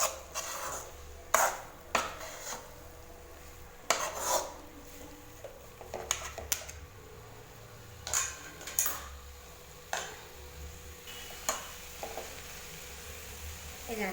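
Cauliflower fry is stirred in a pan, with repeated sharp metal spatula scrapes and clacks against the pan in irregular bursts over a quiet background.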